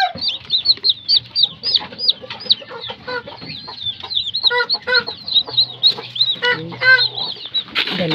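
Rapid, high chirping clucks from a Talisay fighting rooster come in quick irregular bursts for several seconds, close and clear, with a faint low hum in the background.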